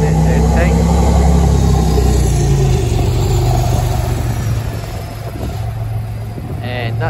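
A bus engine rumbles and revs as it departs Doncaster Frenchgate bus station, a loud low drone that eases off partway through amid station ambience and talk.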